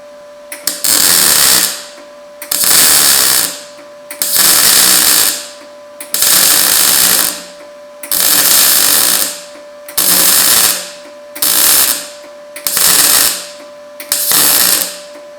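R Tech MIG 180 welder running a seam, nine bursts of crackling, buzzing arc about a second long, each followed by a short pause, loud and close over a steady high hum.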